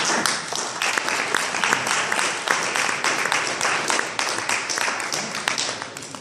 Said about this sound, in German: Und dafür möchte ich jetzt von allen einfach einen ganz großen Applaus.